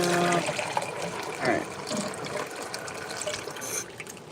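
Hot tap water runs steadily from a faucet into a Pyrex measuring cup, a continuous close splashing wash with a brief voice speaking over it.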